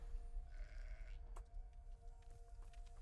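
A sheep bleats in the Hogwarts Legacy video game, a short nasal call in the first second, over a steady low ambient game background with a brief crack partway through.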